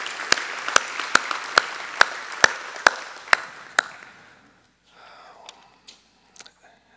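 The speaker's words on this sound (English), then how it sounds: "we should give her a round of applause because she was just inducted into the National Academy" Sparse, spaced claps from a small audience at a hall of fame ceremony, each sharp hit ringing out at a steady rhythm before fading into near silence with a few faint rustles and taps.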